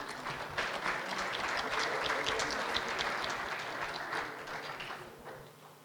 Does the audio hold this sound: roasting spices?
no